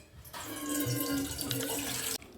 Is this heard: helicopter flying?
no